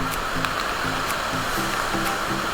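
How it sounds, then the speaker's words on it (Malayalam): Strong, steady rush of water at the Perumthenaruvi waterfall, a continuous broadband roar filling the scene with no voices over it. "നല്ല ഒഴുക്കുണ്ട് കേട്ടോ, നല്ല അടിപൊളി ഒഴുക്കാണ്"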